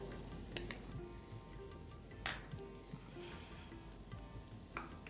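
Butter melting and sizzling in a pan for a cream sauce, a close, quiet, continuous crackling hiss with occasional light utensil taps and stirring, no talk.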